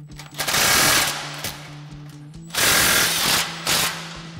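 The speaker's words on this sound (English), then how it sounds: "Then we'll go ahead and snug this clamp down as well." Ratchet tightening an exhaust clamp on a car, two long runs of rapid clicking close up with a short burst between, over a steady low hum and no talk.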